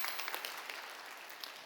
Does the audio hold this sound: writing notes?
no